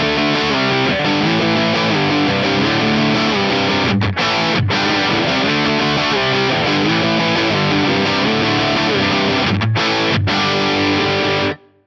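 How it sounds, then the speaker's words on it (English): An electric guitar plays through a modified DS1 distortion model on an Axe-Fx III, a dense continuous fuzzy chordal tone that rings loudly throughout with brief breaks before cutting off at the end. "There's also a modified DS1, which I personally like the sound of a lot more."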